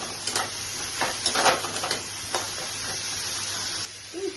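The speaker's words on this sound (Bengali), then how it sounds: "এখন আমি ছোলাগুলো দিয়ে দিচ্ছি, সিদ্ধ করে রেখেছি, দিয়ে দিচ্ছি" Boiled chickpeas tipped into hot oil in a pan for cholar ghugni, giving a fizzing hiss with a few sharper crackling bursts early on that settles into a steady, close sizzle before dropping away.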